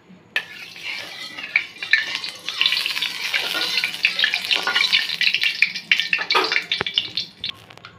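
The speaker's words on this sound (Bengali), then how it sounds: "এখন আমরা এর মধ্যে দিয়ে দেবো সামান্য পরিমাণে সর্ষের তেল" Mustard oil heating in a wok on a gas stove, a steady bright crackle and hiss with scattered sharp ticks and a few metal scrapes.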